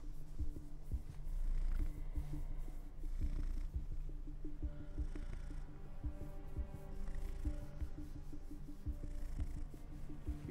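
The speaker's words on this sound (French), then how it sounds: "Dis bonjour au chat." A cat purring close up, a soft rhythmic rumble that continues steadily for about ten seconds, with no voices over it.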